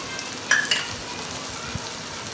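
Cashews, raisins, coconut and almonds go into a frying pan, bringing a steady close sizzle of hot fat with a couple of brief stirring scrapes and light taps early on.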